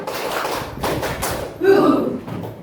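A group in an Indonesian class or gathering claps on cue, giving a few sharp, separate clap bursts in a rhythmic pattern, followed by a voice speaking.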